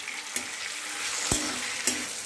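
Peas and green chillies are added to a hot frying pan, giving a continuous sizzle punctuated by three sharp clinks of the utensil against the pan, without speech.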